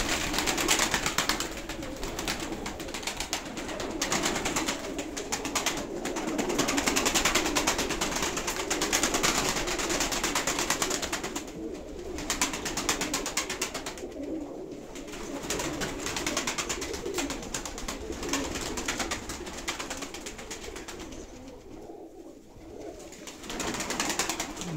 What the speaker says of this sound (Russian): Голуби бойные и все с боем.